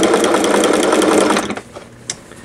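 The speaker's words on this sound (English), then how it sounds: "Don't sew fast with a ruffler." A Singer 401A sewing machine stitches steadily with a ruffler foot attached, a loud, close, even mechanical whir that runs for about a second and a half, then stops abruptly, leaving faint handling clicks.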